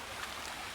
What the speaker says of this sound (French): Il y a un petit ruisseau qui passe.